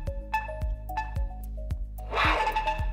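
Friendly tamper warning from an Electrified S2 e-bike theft alarm: a series of short, regular electronic beeps and tones repeating about every half second, then a brighter burst of sound near the end, close and clear with no talking.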